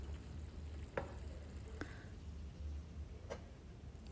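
Chicken curry sautés in oil in a home kitchen pan, a faint continuous sizzle with a low hum beneath and a few soft scraping stirs of a spatula.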